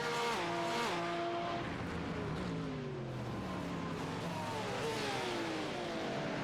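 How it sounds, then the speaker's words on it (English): A Porsche 911 RSR race car with a flat-six engine howls past at Sebring, loud and close, its pitch sweeping down and then climbing again as it accelerates away. "Listen to the sound of that Porsche. What a gorgeous noise that flat six makes."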